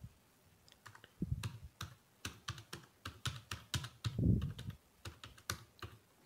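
Fingers type HTML code on a computer keyboard in quick, uneven bursts of close key clicks with a few heavier thumps, all fairly quiet and with no voice over them.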